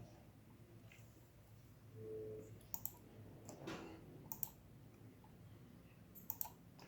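Quiet clicks of letters being typed on a computer keyboard, a few scattered sharp keystrokes against a soft background hum.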